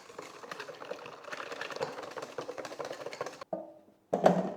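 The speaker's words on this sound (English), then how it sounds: "All right, so we're going to stir all that in." Coconut flour batter being stirred in a bowl, a steady run of soft scraping and tapping strokes that stops briefly near the end before one last louder knock.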